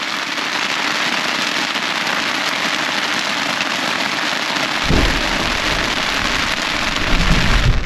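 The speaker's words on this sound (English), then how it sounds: "There is some crazy thunder crackling out there at the moment." Heavy rain drums steadily on a tent outdoors, with a deep thunder rumble swelling from about five seconds and lingering to the end.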